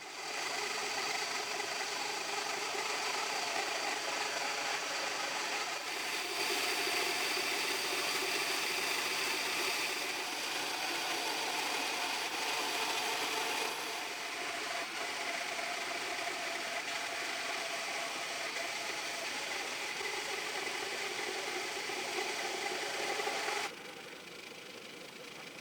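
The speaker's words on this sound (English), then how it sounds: "I'll resaw them down the middle on the bandsaw" A bandsaw resaws thick boards down the middle for carport beam cladding, giving a long steady mechanical drone with the blade's hiss, shifting slightly as the cut progresses.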